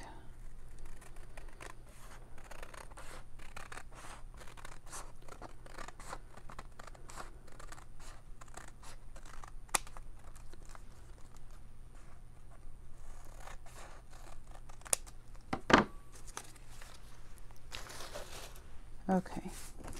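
Scissors trimming paper for a decoupage envelope, a run of quick, faint snipping cuts close by, with a few sharper clicks and paper rustles near the end.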